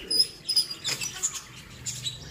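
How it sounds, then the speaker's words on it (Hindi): A pigeon flapping its wings as it arrives, a few soft, quick flutters up close with faint chirps among pet birds in a home setting. "वो कबूतर तो आ रहा है"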